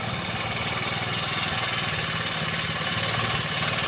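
A 70cc motorbike engine runs steadily close by, its fast even putter holding at a constant level with no talking.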